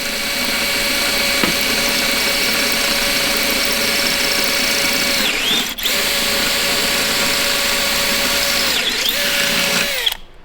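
A step drill bit bores a hole through stacked metal parts in a shop with a loud, steady high-pitched whine, briefly dipping and rising twice as the bit steps through before stopping at the end.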